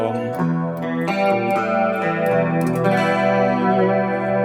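Clean electric guitar through a Fractal Audio FM9 with a bright, metallic edge, sustained chords shifting every second or so, played alone at steady moderate volume.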